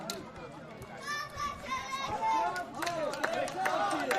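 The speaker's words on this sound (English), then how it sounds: "Crowd letting them hear it." Crowd noise at a Masters 35+ soccer match between America and Israel at halftime, a steady hubbub of cheering and chatter from the stands with shouting voices rising over it throughout.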